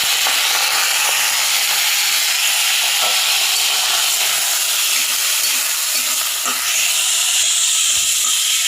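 A ground paste of garlic, onion, chilli and ginger hits hot oil, giving a steady, loud, airy hiss and sizzle that runs close and unbroken throughout, with faint scattered pops.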